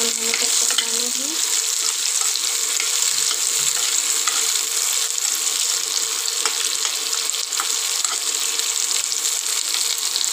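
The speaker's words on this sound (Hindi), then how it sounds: "और फिर डालेंगे इसमें 3-4 प्याज जिसे मैंने लंबे लंबे पीसेस में कट किया था।" Three or four long-sliced onions fry in a pan on the way to golden brown for stuffed bitter gourd curry, giving a steady, close hiss and crackle that continues without a break and with no talk.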